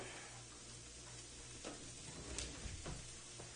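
Vegetables frying in a pot for corn chowder: a soft, steady sizzle with a few light clinks and scrapes, faint and close, with a low hum underneath.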